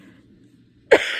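A woman gives a single sharp cough near the end, close and loud, after a short stretch of quiet low murmur.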